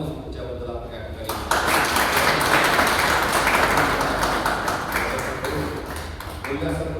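An audience claps together throughout, a dense steady roar that swells after a quieter opening and holds loud to the end.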